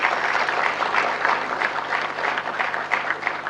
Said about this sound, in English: I request you to please give a big round of applause to them.